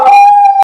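A dog lets out one close, loud, steady howl on a single sustained pitch, cut off after less than a second.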